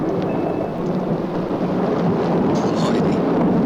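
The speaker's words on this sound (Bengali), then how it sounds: "আকাশে তো বড় মেঘ ডাকছে।" Thunder rolls across a stormy sky as a deep, sustained rumble that fills the whole stretch, loud and steady, with a soft wash of rain-like noise underneath.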